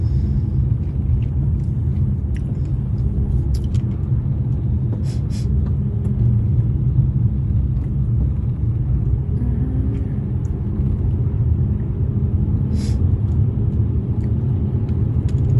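Cars driving slowly on a snowy, slippery road in Canada, a steady deep rumble of engines and tires heard from inside a moving vehicle, continuous and fairly loud with no talk.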